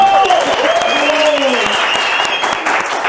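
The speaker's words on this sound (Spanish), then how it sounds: "un fuerte aplauso para tu equipazo" A studio audience on a Spanish-language talk show breaks into loud, dense applause, close and sustained throughout, with some crowd voices and whoops mixed into the clapping.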